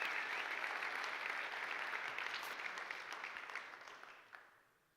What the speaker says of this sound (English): Should we give a round of applause as well for the staff for helping us?